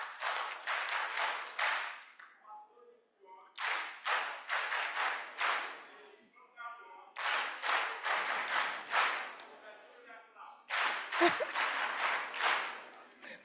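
A group performs the pediatric dental clinic clap in rhythm, with four bursts of quick, synchronized clapping separated by short pauses. The clapping sounds fairly distant and quiet in a lecture hall.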